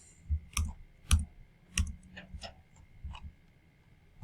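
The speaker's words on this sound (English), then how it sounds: "I'll just kind of shift click through them." A computer mouse gives a series of sharp, quiet clicks at an irregular pace, about nine in all, close and alone over faint background hum.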